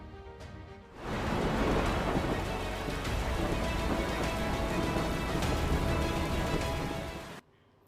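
Heavy monsoon downpour in Pune, Maharashtra, rises after a quiet second into a loud, steady roar of rain with a deep low rumble underneath, then cuts off abruptly near the end.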